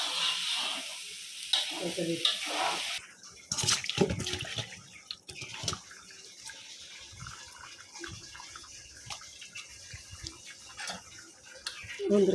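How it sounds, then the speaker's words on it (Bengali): Water pours and splashes into a pot of biryani, followed by sizzling, bubbling and stirring clatter, close by and fairly quiet. "পানিটা দিয়ে দিছি বিরিয়ানিতে"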